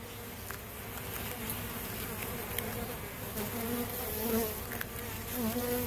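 Honeybees from a package hive buzzing around the queen cage, with a dense, continuous close-up hum and a few individual bees droning louder as they pass near.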